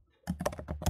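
Code being typed on a computer keyboard: a quick run of close, crisp key clicks in an irregular rhythm, with no talking.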